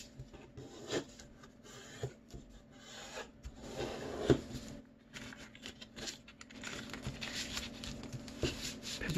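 Colored origami paper folded by hand into a lizard, soft crisp creases and rustles with a few sharper crinkles, close and quiet.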